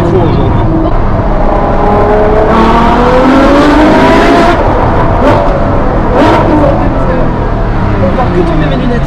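An 800 hp Ferrari engine accelerates hard from inside the cabin, its loud rising roar climbing through quick gear changes with brief surges, while people talk over it.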